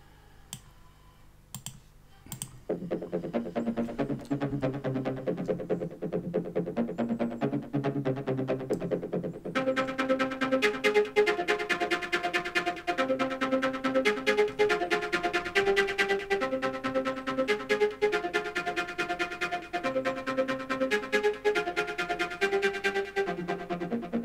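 Techno lead synth from Massive driven by an arpeggiator, a rapid run of clicky, bright repeating notes that begins after a few isolated clicks and continues steadily, filling out with more layers partway through.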